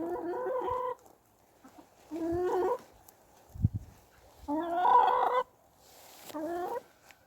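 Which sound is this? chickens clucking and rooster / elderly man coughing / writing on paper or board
chickens clucking and rooster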